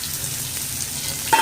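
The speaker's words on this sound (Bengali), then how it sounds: "সব কিছু একসঙ্গে ভালো করে ভাজবো।" Garlic, onion and green chili frying in a pan for a Bengali potol bharta, a steady soft sizzle running through the short clip with a brief sharper burst near the end.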